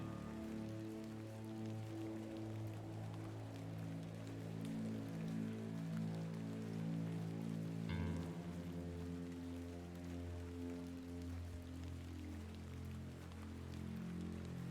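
Steady rain falls in the video game The Excavation of Hob's Barrow, a continuous patter layered over sustained ambient music tones that shift midway.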